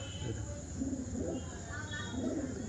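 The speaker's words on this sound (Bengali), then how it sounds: "খুবই সুন্দর পায়রা" A pigeon gives soft, low coos in two or three short bursts close by, over steady background hum.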